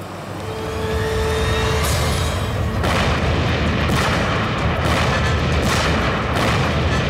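A bomb goes off beside a grain transport convoy: a steady rumble gives way to a loud, sharp blast followed by repeated heavy booming bursts and a dense roar.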